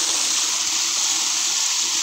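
Water gushing from a solar-powered tube well, a steady, loud hissing rush of flowing water with no breaks, close by and without talk.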